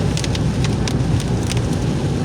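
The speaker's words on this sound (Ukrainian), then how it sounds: "Дощ, барабани." Heavy rain drums steadily on a vehicle's roof during an autumn fishing trip. It is a loud, dense, continuous patter with sharper drop hits scattered through it, and no voices.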